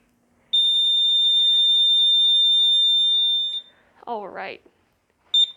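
A DC-60UT-BTC portable multi-sport battery timer/clock sounds its end-of-period alarm, a loud steady high-pitched electronic tone held for about three seconds, then a short voice and a brief final beep.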